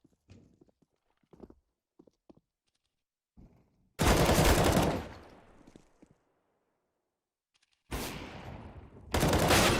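Gunfire in Counter-Strike: Global Offensive during a LAN tournament final, with a few quiet taps followed by two loud, broadband bursts of shots, the first fading out slowly and the second coming in two closely spaced blasts.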